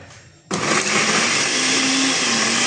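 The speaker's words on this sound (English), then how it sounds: "we are going to turning on the blender" A blender switches on abruptly and runs at full, steady power, whirring as it purees dragon fruit skin with a little water; loud and continuous with no talking.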